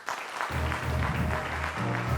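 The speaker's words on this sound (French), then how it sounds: "ça s'applaudit, s'il vous plaît" Studio audience applauding on a French-language talk show, a short burst of clapping that starts abruptly and continues steadily over a low, droning background hum.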